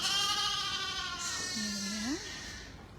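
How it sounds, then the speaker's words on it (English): Goats at a farm during a lambing open day give a single drawn-out bleat that rises toward the end. It is close and clear over a steady background hiss. "So these are some of our goats for a start."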